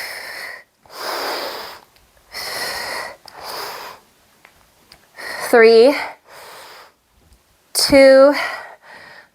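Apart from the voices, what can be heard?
heavy breathing during yoga sculpt exercise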